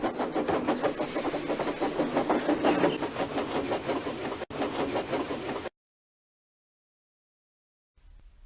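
A breakdown train on rails runs with steady rhythmic clickety-clack and hiss, loud and close, then cuts off abruptly to silence before a faint rumble returns.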